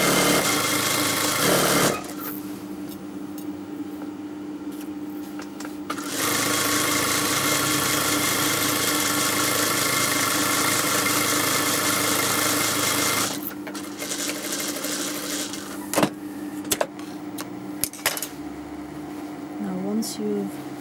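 A sewing machine runs in long steady bursts stitching a seam of a boy's jubba up to the hemline, a loud continuous whir with brief pauses and some clicks, under a voice talking.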